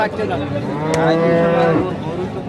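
A dairy cow lows once, a long, loud, close moo filling the moment at a rural cattle market.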